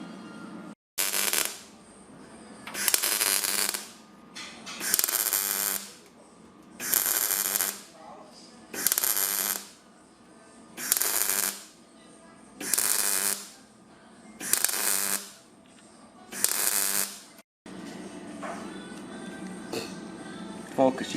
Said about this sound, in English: I'm only putting a few stitch welds in it.